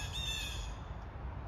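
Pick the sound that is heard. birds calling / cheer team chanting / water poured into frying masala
birds calling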